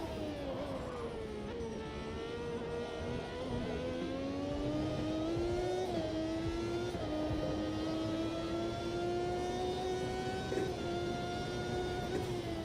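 Alain Prost's Ferrari racing car in AMS2 holds a continuous high-pitched engine whine that climbs and dips as revs rise and fall, loud and close with no pauses.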